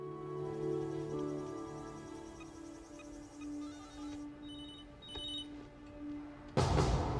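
A telephone in a video game rings with a sustained electronic trill and some high beeping tones, then a burst of louder noise cuts in near the end.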